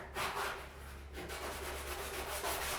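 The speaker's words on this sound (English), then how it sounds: "So again, we're just kind of like buffing it out a little bit more." Gold paint on an artwork buffed by hand, a close, steady rubbing swish in repeated strokes, with no voices.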